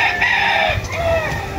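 A rooster crows in a farm breeding area kept with many hens, its loud, close call rising and falling over about a second and a half, with clucking fowl around it.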